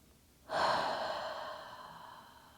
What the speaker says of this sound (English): take one more slow, deep breath